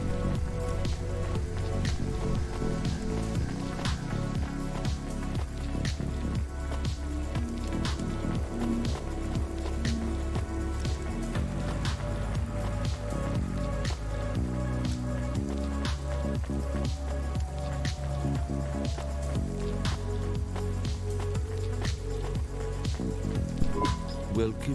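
Steady rain falls in the rainy city of the video game Cloudpunk, a constant hiss under a game music bed with low synth tones throughout.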